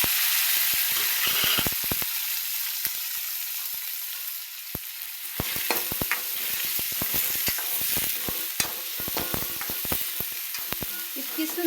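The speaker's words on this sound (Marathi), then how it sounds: "ही शेव भाजी तेलात फ्राय होते" Sev bhaji with crushed garlic fries in oil, a continuous close sizzle broken by frequent sharp crackles and scraping stirs, with no talking.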